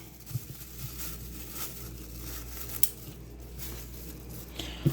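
Scissors cutting through a thin plastic shopper bag, a quiet stream of soft snips and crinkles with a couple of sharper clicks, close by and without any talking.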